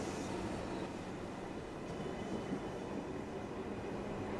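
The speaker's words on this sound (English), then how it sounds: "I'm gonna ride the train until it breaks down or something bad happens." Train running in OMSI 2, a steady, continuous rumble of wheels and carriage noise with a faint metallic hiss, unbroken and fairly loud throughout, with no talking.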